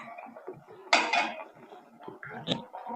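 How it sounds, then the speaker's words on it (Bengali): A metal spatula stirs curry in a pan, giving a few sharp scraping clinks against the metal, one bright scrape near the middle and another toward the end, close and quiet with no talk. "খুন্তিতে করে আর একবার নেড়ে দেবো।"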